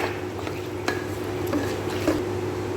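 A spoon stirs soaked rice and dal in a metal pot, giving a few scraping clinks and soft wet squishes at irregular moments over a steady low kitchen hum.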